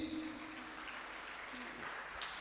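Audience applause at a junior school graduation ceremony, a steady wash of many hands clapping throughout, with faint speech underneath.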